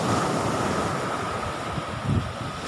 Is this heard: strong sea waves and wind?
yes